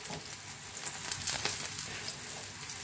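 Tomatoes frying in a pan over a high gas flame for an egg curry give a steady, close crackling sizzle throughout, with no voices.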